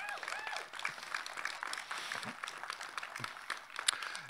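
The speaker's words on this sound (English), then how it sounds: "that deserves a round of applause too" Applause from a crowd at a university commencement ceremony, steady clapping that runs throughout at moderate loudness, with some voices and cheers mixed in.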